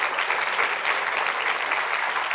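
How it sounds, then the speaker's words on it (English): An audience claps steadily at a women's energy forum, a dense, even patter of many hands sustained at full volume throughout, with no voices over it. "Please give them a round of applause."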